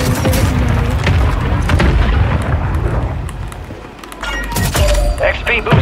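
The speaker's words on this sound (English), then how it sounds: "Copy that, mortar strike inbound." Mortar strike in Call of Duty Warzone, loud rumbling booms and blasts packed through most of the stretch, with a brief dip before heavy impacts return near the end; game voice chatter is mixed in.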